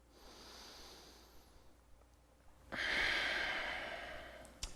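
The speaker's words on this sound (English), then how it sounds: "Breathing in and out of the nose." Slow nasal breathing during a beginner floor exercise routine: a soft, airy inhale-like hiss, a pause, then a louder, longer breath out through the nose, close and alone with no talk.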